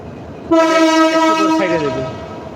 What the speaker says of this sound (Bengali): এই যে এখানে একটা লোকোমেটিভ